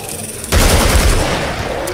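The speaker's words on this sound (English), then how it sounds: "I think it's time for the AK-47 die fucking bitch." AK-47 fire in the game Killing Floor erupts after a short pause into a rapid, loud burst of automatic shots that carries on to the end, dense and close.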